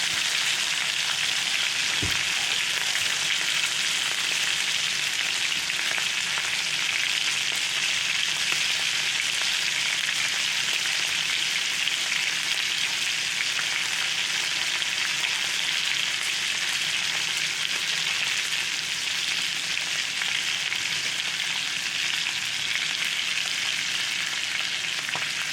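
Butter melting in a cast iron skillet over low heat before basting a New York strip steak, a loud, steady, continuous sizzle and crackle without pause.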